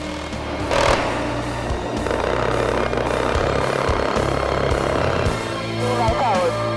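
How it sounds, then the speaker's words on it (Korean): Cobra attack helicopters' rotors thump and whine loudly and close, with a steady low engine drone and pulsing blade chop throughout. "임무 수행을 마친 공격 헬기들이 귀환한다."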